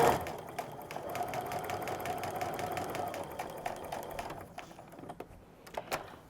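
A sewing machine stitches through a fabric backpack, running fast with a close, rapid mechanical chatter, then slowing into a few separate clicks at the end.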